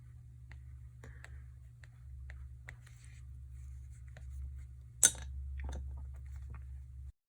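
Pen drawing on paper, quiet scattered strokes and light scratches over a steady low hum, with one sharper tap near the end; close and faint, no speech.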